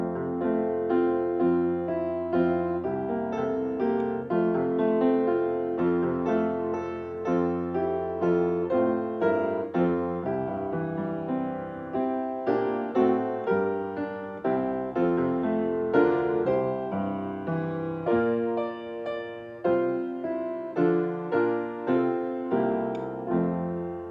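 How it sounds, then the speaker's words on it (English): Piano plays a hymn with flowing left-hand arpeggios under the melody. The rolling broken chords move steadily and evenly for the whole stretch, played alone with no voices. "Now another way to fancy it up is by adding some arpeggios in the left hand"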